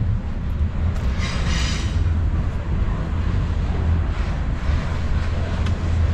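A short train rumbles past close by, a heavy low-frequency roar with wind buffeting the microphone and brief higher metallic rattles, steady throughout.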